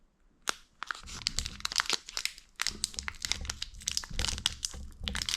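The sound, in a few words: opening a Pokémon Sun and Moon booster pack wrapper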